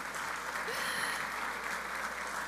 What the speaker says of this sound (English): sorry, it's clapping